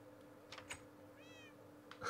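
A cat in the Minecraft video game meows a few times in quick succession, short and clear, with a longer wavering meow in the middle and no talking.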